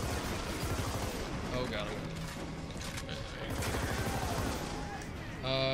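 Gunfire in the video game Army of Two: The 40th Day: dense, continuous bursts of shooting and battle noise under a player's brief spoken reactions.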